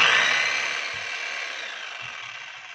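A DeWalt 10 kg demolition hammer, one that runs but does not hammer, starts up with a loud, steady motor whine that gradually eases in level over a few seconds, heard close and alone.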